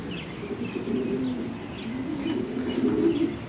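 Racing pigeons sit on the floor of a sunlit loft, cooing softly and continuously with a few faint chirps, close by and without any talk.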